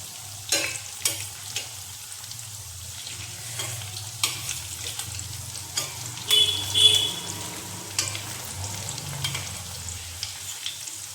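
Food fries in a pan on the stove, with a low steady sizzle broken by frequent stirring clatters and scrapes close by, and no voices.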